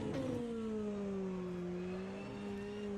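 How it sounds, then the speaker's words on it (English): BMW M4 DTM race car with a 2-liter turbo engine in rFactor 2, droning steadily at high revs with the pitch sagging slightly then climbing again, loud and continuous throughout, with no talking. "Let's enjoy DRS and the car sounds all together."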